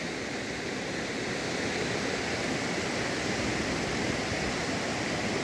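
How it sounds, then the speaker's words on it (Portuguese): A swollen creek in Bahia rushes steadily with a broad, constant roar of high floodwater, with no break or change. "é muito volume de água que desce aqui, nesse riacho aqui da cidade de Vanderlei"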